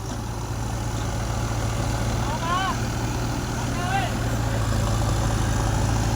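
A tractor engine runs as a steady, low, droning idle throughout, with brief high squeaks or calls over it.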